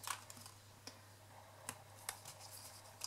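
Paper leaves for a vine-design matchbox craft being handled and folded in half, a few faint, sharp crisp creases and rustles spaced over a few seconds, close and quiet.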